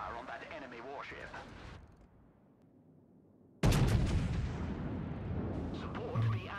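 A USS Montana battleship in a naval video game fires a massive gun salvo, a loud sudden boom bursting in after a quieter stretch and rumbling on, with game voice lines spoken beforehand.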